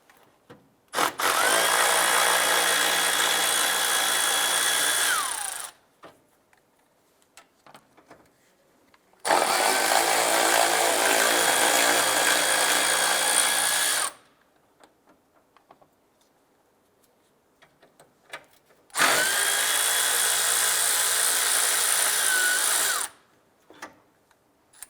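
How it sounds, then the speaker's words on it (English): A powered driver spins out the three 10mm bolts holding the hood latch on a 2001-2005 Honda Civic, using a socket and extension; three steady whirring runs of about five seconds each, close and loud, with quiet pauses between them. "remove these 3 10mm bolts holding the hood latch in place. You use a 10mm socket and extension."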